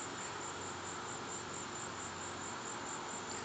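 Crickets chirp outside in a dense, continuous high trill, steady and fairly loud with no pauses.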